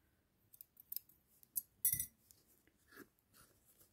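Scissors snip yarn on crochet slippers with a few quiet, close clicks and one sharper cut, amid faint handling noises and no talk.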